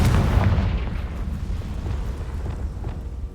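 Confringo fire spell from the Hogwarts video game bursting in a deep, loud rumbling explosion that slowly decays over a few seconds, with no voices.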